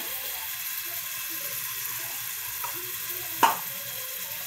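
Fish fried in a pan, a steady low sizzle and crackle running throughout, with a sharp utensil scrape or clink near the end.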